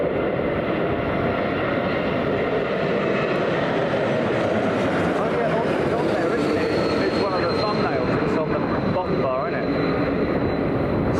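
A wide-body Emirates airliner lands in strong wind at London Heathrow, its engine roar steady and loud, with a rising whine near the end as it passes, while people talk casually over it.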